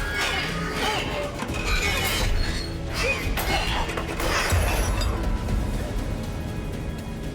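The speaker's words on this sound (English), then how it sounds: "The cage now shatters around her" A cage shatters around a woman in the Silent Hill 2 Remake video game, a dense burst of crashing and smashing debris that fills the clip loudly and continuously, with thuds and game noise running underneath.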